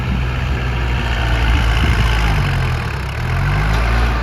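A Kubota L5018 tractor engine idles steadily with a low, rumbling drone that holds for several seconds, close by and fairly loud, with no voices.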